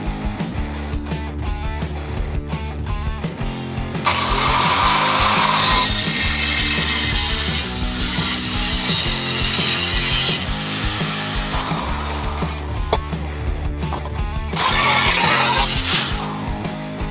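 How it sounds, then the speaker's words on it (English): A piece of scrap metal clamped in a vise is cut down by a power tool for a mounting bracket, a loud continuous grinding whine that rises in bursts and drops back, running for the whole stretch with no talk. "It's in my vise, and I'm going to cut it down and make a mounting bracket."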